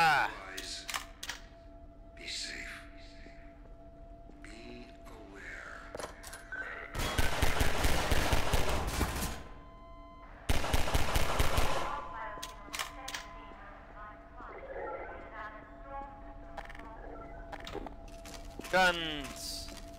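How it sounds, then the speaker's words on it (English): Gunfire in the video game Half-Life 2: two sustained, rapid automatic bursts of a few seconds each, loud and crackling, set between stretches of someone talking and quieter game sounds. "Guns."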